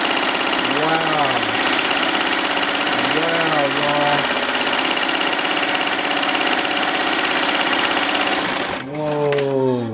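An embroidery machine stitches a leather patch with a fast, steady mechanical chatter, close and loud throughout, while voices speak over it.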